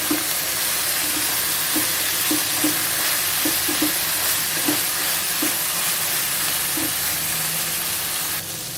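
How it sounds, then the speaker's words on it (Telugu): White eggplant pieces with turmeric powder and salt are stirred in a hot pan, a loud steady sizzle with soft repeated scrapes and knocks of the spoon against the pan. "ఇప్పుడు ఒకసారి కలుపుకుందాము"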